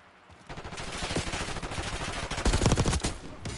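Sustained rapid gunfire from a Call of Duty Black Ops 6 match, dense overlapping automatic bursts that swell louder near the end, with no talk over it.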